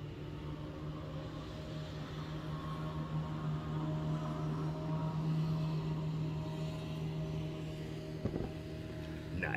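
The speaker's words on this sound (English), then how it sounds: "We got noise in the background. Oh, we got a boat going by." A motorboat passes on a river at dusk, its steady low engine drone holding throughout at moderate distance, with a brief knock near the end.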